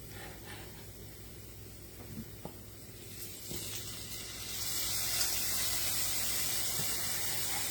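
Tomatoes tipped into a hot pan of onions while cooking patacones with shrimp, a quiet background hiss that swells into a louder, steady sizzle partway through and then holds, with a few light knocks beforehand.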